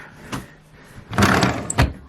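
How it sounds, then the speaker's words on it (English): A drawer in a home nursery is pushed shut, giving a soft knock followed by a short sliding rumble and a final close thud, nearby and fairly loud. "I'll put that back in the drawer."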